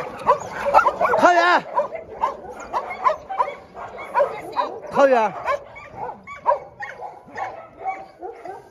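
Dogs at a mountain home bark and yip nearby in short bursts, with a couple of louder howling yelps, while someone talks and calls a dog's name.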